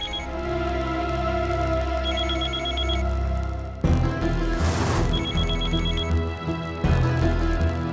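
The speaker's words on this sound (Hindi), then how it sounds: "किसका फोन है, उठा क्यों नहीं रही हो?" Telephone ringing in a home during a TV drama scene: repeated electronic ringtone bursts with a steady melodic trill, loud and close, over a background music bed, with no speech.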